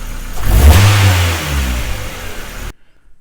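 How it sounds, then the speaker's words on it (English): A 1990-2005 Mazda Miata engine, freshly fitted with new spark plugs and wires, revs sharply up from idle with a loud close roar, then settles back to a smoother idle before cutting off. "Well, I can tell it's idling a little better."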